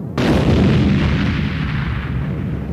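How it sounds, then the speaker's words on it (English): An explosion sound effect in a Transformers audiobook bursts in abruptly as one loud, heavy boom, then rumbles and slowly decays without any voice over it. "There came the roar of an explosion."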